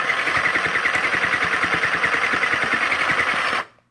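A sewing machine stitches straight along a small fabric pouch, a steady rapid mechanical clatter running loud and close for several seconds before stopping abruptly.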